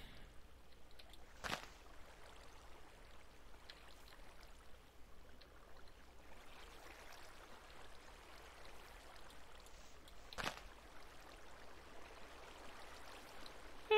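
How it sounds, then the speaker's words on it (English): Soft, continuous burble of flowing river water in the Minecraft video game, steady and fairly faint, broken by two brief sharp clicks. "Nice little river."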